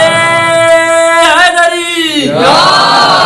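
A gathering at a majlis chants a religious slogan in unison, a loud, sustained group voice that rises and falls in pitch, swells, then sweeps upward into a second call near the end.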